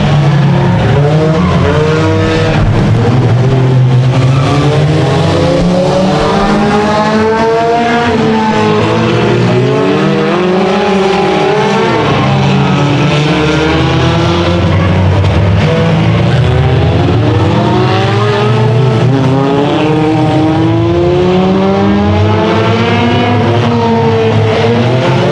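Race cars roar around Orange Show Speedway during the Barber Pole race, loud overlapping engines rising and falling as they pass, constant and close throughout.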